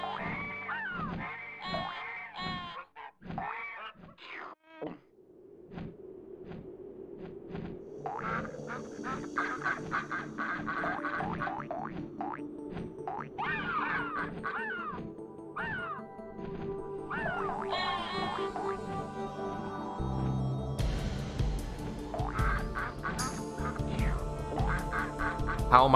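Synthesized duck quacks and honks from the Frogger video game come in short bursts among electronic game effects and music, with busier layered sounds toward the end.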